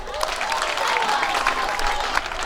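An audience at a King's School event claps in a dense, steady wash of applause, moderately loud, with a voice faintly audible beneath.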